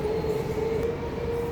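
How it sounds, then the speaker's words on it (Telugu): Train running on a line right beside a house, a steady close rumble with a sustained droning tone throughout, fairly loud and unbroken, with no voices. "ట్రైన్ కూడా పక్కకే ఉంది."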